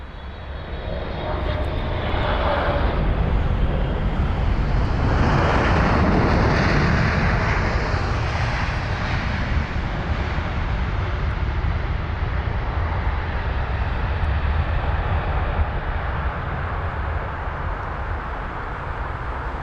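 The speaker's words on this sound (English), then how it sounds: "Now this 777 is registered as November 726 Alpha November, and it's a 10-year-old aircraft registered in November 2013." An American Airlines Boeing 777-300ER landing at London Heathrow, its engines building to a loud, close roar that swells and sweeps past, then settles into a sustained broad rumble as the jet rolls out on the runway.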